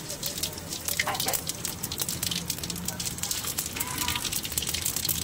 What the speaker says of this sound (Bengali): তো আমার তেলে গরম হয়েছে, তেজপাতা দিয়ে দিলাম, একটু শুকনো লঙ্কা,